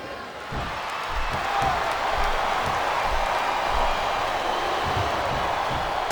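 Large wrestling arena crowd at a Table Ladder Chair match roars and chants in a steady, dense wash of noise that holds throughout, loud and sustained.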